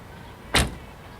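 The door of a 2015 Subaru WRX Limited opens with a single brief, close mechanical clunk of the latch against a quiet interior, with no talk.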